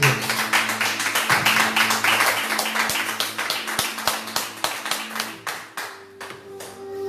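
A church congregation claps for God in quick rhythmic unison, a fast steady beat of many hands with a faint held tone beneath, thinning out toward the end.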